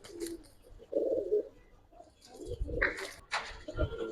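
Giribaz and coloured pigeons, including a big Kaldom hen, coo nearby in a loft, giving short, throaty, intermittent calls with a few scattered chirps between quiet gaps.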